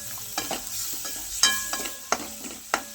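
Chutney with garlic, chilli and ginger paste is stirred in a pan, with soft sizzling under a handful of sharp spoon scrapes and clinks against the metal.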